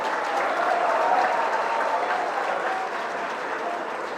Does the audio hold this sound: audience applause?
yes